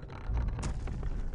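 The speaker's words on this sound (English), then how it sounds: "Mortars are going to be a real pain in the ass." A mortar team explosion in the Warcraft 3 strategy game, a single brief booming burst with a sharp crack, heard alone against low rumbling game sound.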